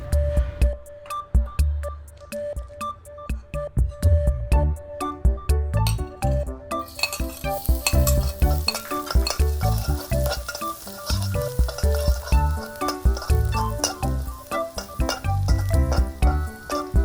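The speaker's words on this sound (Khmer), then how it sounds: "យើងចាក់ខ្លាញ់ដើម្បីបំពងខ្ទឹម" Garlic fries in oil in a hot wok for a Khmer stir-fried beef and vegetable dish: a loud continuous sizzle with rhythmic stirring clinks and scrapes of the utensil against the pan.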